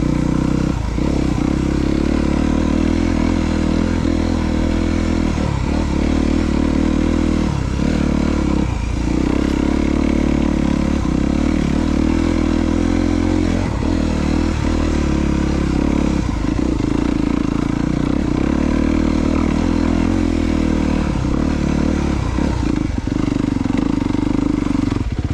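A big dirt bike rides along a narrow trail, its engine droning loudly and close throughout, with repeated dips and surges of throttle and some rattling clatter over rough ground.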